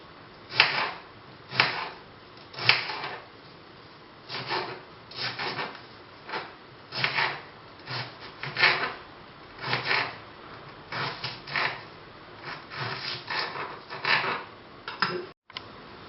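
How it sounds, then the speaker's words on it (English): A knife slicing a small purple onion into thin strips on a cutting board, with irregular close taps and scraping strokes in short clusters, no talking. "I'm going to cut this into little strips."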